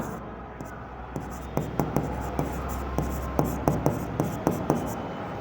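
Chalk or marker writing on a board during an accounting lesson on partnership final accounts: a steady run of short, crisp taps and strokes, close and moderately loud, over a low hum with no voices.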